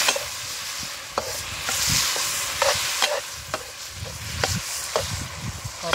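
Tomatoes and green chillies stirred into reddened onions frying in a pan for a village-style chicken pulao: steady sizzling with repeated scraping, clacking stirs at an irregular rhythm, close and moderately loud, no talk.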